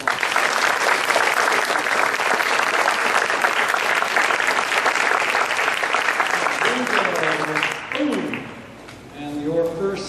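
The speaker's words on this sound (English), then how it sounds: "So if we could give her a round of applause." Audience applause at a cross-country team awards ceremony, steady and full for about eight seconds before fading into talking voices near the end.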